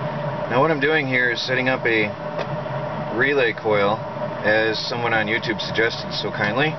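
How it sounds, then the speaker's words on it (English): A homemade Bedini motor runs as a steady mechanical hum and whir beneath someone talking close by, with the background noise continuing throughout. "Sorry for the background noise, I have my Bedini motor going."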